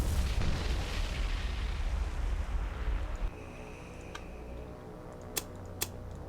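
Bombs dropped from aircraft in the naval combat game War on the Sea burst in a heavy rumbling barrage, then the din drops away and two sharp distant blasts crack out near the end.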